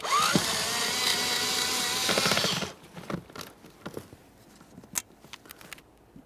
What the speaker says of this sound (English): Let's remove that screw.